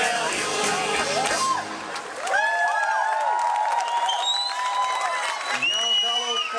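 A theatre audience at a musical performance, where steady applause and crowd noise continue throughout, with bright musical tones and voices layered over the clapping.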